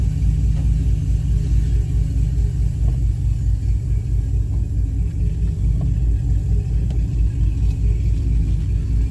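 A Yukon truck with a 4L80 transmission driving, a steady loud low rumble of engine and road noise from inside the cab, with no voices.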